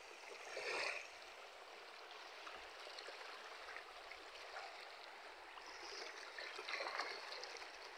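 Cold water flows over a rocky stream bed, a faint, steady close gurgle and trickle with brief swells of splashing, and no voices.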